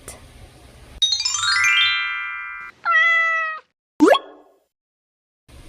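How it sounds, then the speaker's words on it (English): A cartoon cat meow sound effect plays amid a series of separate bright electronic tones and chimes, with short pauses between each clean, close sound. "Cat."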